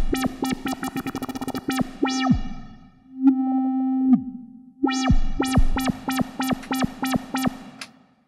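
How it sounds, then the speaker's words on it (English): A square-wave tone from a Pioneer DJS-1000 sampler with an LFO, pulsing in a rapid stuttering rhythm of bright buzzy notes, pausing for a sustained held note, then resuming the choppy pattern, loud and alone. "Let's try one of the square waves,"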